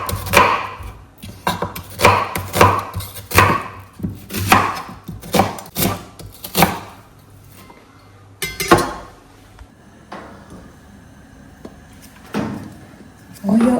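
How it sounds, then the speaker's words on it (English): An onion is being shredded with a knife on a board in a home kitchen, giving a run of sharp, close chopping knocks in an uneven rhythm, followed by quieter handling and clatter. "We go ahead and shred our onion"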